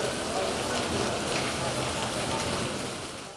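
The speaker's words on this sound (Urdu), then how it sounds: "کہیں تیز اور کہیں ہلکی بارش نے سما باندھ دیا" Steady rain, heavy in places and lighter elsewhere, pours over a city during an evening storm with strong winds, a dense continuous hiss filling the whole span at constant loudness.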